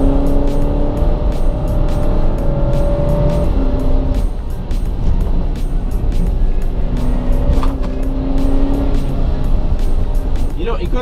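Alfa Romeo Stelvio SUV pushed hard on the road, a steady engine drone with rising and falling tones as it accelerates, loud and continuous beneath someone talking throughout.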